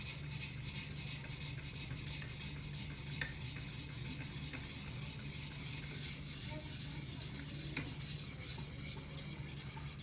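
A knife blade strokes back and forth across a guided sharpener stone in a steady, faint, continuous rasp with occasional small clicks, close by and without voices.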